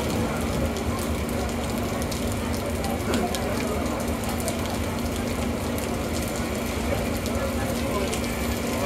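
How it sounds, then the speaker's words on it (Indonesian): Heavy rain falls steadily on a morning at the Pondok Pinang bus terminal. It makes a dense, constant hiss of a downpour drumming on surfaces, with faint background activity underneath. "ini malah hujannya tambah deras"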